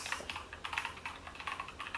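Rapid, close clicky keystrokes patter in an irregular rhythm on a Keychron K2 mechanical keyboard with clicky switches, with no talking over them.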